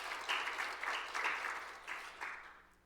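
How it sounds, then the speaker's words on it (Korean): A church congregation bursts into several short waves of clapping at a Sunday worship service, moderately distant and roomy, each swell rising and fading before the applause tails off toward quiet. "우리 하나님께 큰 박수로 한번 영광을 돌립시다."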